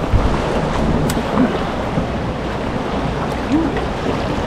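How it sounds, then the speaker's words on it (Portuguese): Strong river current rushing around a paddled boat, a loud, steady wash of churning water with wind buffeting close to the microphone. "que força que a água faz aqui"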